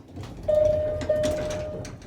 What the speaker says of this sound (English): No, but the chimes do. And I love that low-pitched chime.